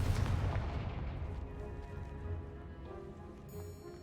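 Spell explosions from Confringo and Bombarda in the Hogwarts Legacy video game, a deep booming blast at the start that rumbles and fades away, followed by quieter low echoes.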